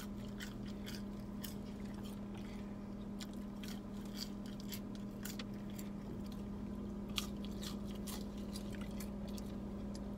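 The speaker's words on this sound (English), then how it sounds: "I'm just about to eat these french fries, though." Someone chews french fries close to the mic, soft repeated crunching and squishy bites over a steady low background hum.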